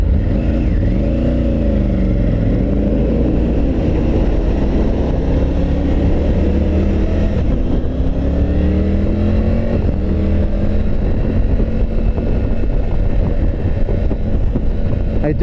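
A 2022 Triumph Tiger 900 Rally Pro motorcycle is ridden on a highway, its engine droning loudly and rising and falling in pitch through gear changes, under heavy wind buffeting on the microphone.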